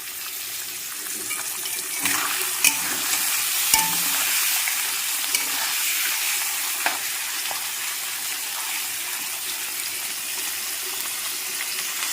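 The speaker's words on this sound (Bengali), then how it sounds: "পুঁটি মাছগুলো আমার ভাজা হয়ে গেল" Puti fish sizzle steadily in hot oil in a kadai while being stirred. The frying hiss is continuous and close, with a few sharp scrapes and clinks from the stirring, and there is no talking.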